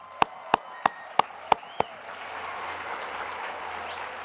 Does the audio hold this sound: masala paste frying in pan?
no